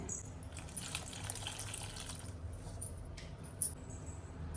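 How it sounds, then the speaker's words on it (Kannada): Water is poured into a simmering pot of okra gassi with jaggery and turmeric, giving a faint, steady splashing gush that fades after a couple of seconds and leaves a low background hum with a small clink. "ಸ್ವಲ್ಪ ನೀರು ಸೇರಿಸ್ತಾ ಇದ್ದೇನೆ."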